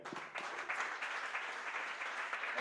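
Audience applause at an Italian anti-death-penalty poetry reading, a steady wash of clapping from a room of listeners that holds at an even level throughout, without any voices over it.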